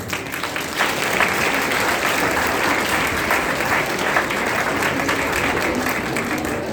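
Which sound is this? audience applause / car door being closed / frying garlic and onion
audience applause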